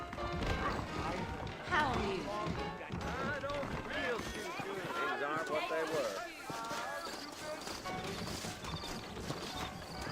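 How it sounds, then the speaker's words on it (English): Horses trotting in the video game Red Dead Redemption, a steady clip-clop of hooves running under continuous conversation, with a brief whinny, music-like tones and the hoofbeats fading to a quieter tail. "I got the horses saddled up and ready out front."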